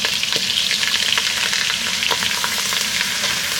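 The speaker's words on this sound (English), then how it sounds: "This is the process where I got to keep stirring." Flour gets stirred into melted butter in a hot pan for a seafood roux, giving a steady close sizzle with repeated soft scraping strokes, continuous and alone.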